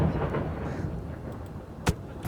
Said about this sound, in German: Jetzt muss ich nur noch irgendwie schauen, dass ich das scheiß Gewitter loswerde.